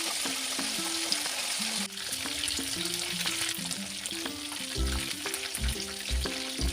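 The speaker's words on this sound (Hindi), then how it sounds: "ऑयल जब गर्म हो जाए तो मीडियम हीट पे हमने इसको फ्राई करना है।" Chicken frying in hot oil in a pan over medium heat, a steady bubbling sizzle with occasional stirring knocks, continuous and fairly close, with no talking.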